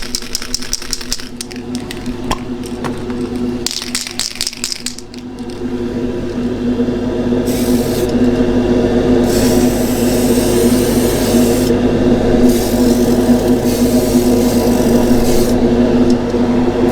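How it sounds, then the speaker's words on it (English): An airbrush sprays flat clear coat onto a 1/48 scale Spitfire Mk I model: a few light clicks and handling noises, then a steady hum broken by repeated hissing bursts of spray. "So let's do some flat coat spraying"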